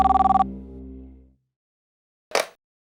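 A telephone bell rings in a short, rapid burst, then is quickly answered; after a pause there is a brief clatter, all close and clear.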